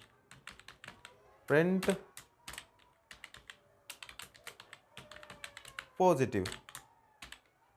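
Rapid clicking keystrokes on a computer keyboard while Python code is typed, quick irregular bursts of taps at close range, with someone speaking over and between the keys.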